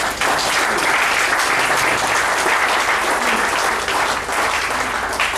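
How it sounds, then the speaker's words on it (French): A crowd gives sustained, dense applause at an anniversary ceremony where vehicles and motorbikes are handed to agents, loud and even from start to finish. "On peut applaudir."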